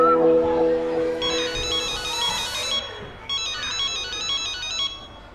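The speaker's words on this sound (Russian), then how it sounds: "Звонок." An electronic school bell rings in a classroom in a Russian TV comedy series: a bright, melodic chime sequence sounds in two bursts over several seconds, loud and close.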